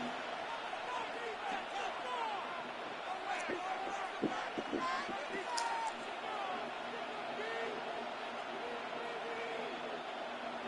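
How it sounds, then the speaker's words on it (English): Crowd roar from an EA Sports NFL video game stadium during a big third down late in the game, a steady dense wash of cheering throughout with brief sharp cries and bangs mixed in. "The crowd getting into it as we come up on a big 3rd down."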